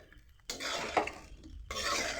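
A spoon stirs pasta coated with Maggi masala in a pan over low flame, with two bursts of close scraping and stirring after a quiet start.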